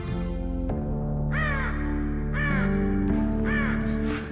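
Raven calls sampled into a dark ambient music track: three separate harsh caws ring out over sustained low drone tones, spaced evenly and clear, with a fourth call starting at the end.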